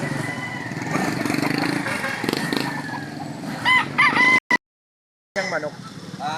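A rooster crows loudly and close by, a drawn-out cock-a-doodle-doo rising near the middle. Clucking and other farmyard noise fill the background, the sound cuts out briefly, and then the noise returns.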